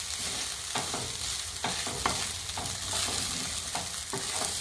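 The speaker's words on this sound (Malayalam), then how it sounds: "അപ്പം നന്നായിട്ടൊന്ന് മിക്സ് ചെയ്ത് കൊടുക്കാം." Quinoa and grated coconut are stirred in a pan over a low flame, giving a steady frying hiss with regular scraping strokes of the spoon, close and alone.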